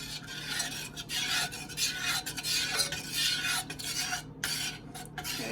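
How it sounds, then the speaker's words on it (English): Khadaif pudding is stirred in a pot while heavy whipping cream is slowly added, making a continuous loud scraping and swishing from a utensil on the pot with brief pauses and no voices. "And when we're stirring, we're going to gradually add in the heavy whipping cream."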